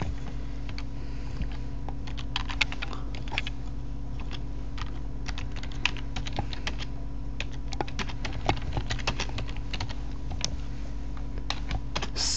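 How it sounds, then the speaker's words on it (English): Continuous typing on a computer keyboard, with rapid, irregular key clicks close up over a low steady hum, and a few louder keystrokes standing out. "First, I will type a masterpiece of modern literature."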